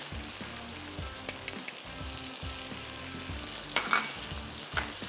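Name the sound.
spices lightly frying in a pan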